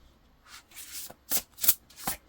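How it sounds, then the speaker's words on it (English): Tarot cards being shuffled by hand, several short papery riffling bursts in an uneven rhythm, close and fairly quiet, with no talking over them. "So let's also get some tarot cards for you."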